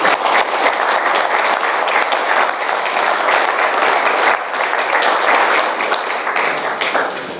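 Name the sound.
audience applause at a political forum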